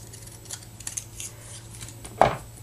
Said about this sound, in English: This is the scallop die cut from the Layering Circles set, and I'm just going to cut it in half.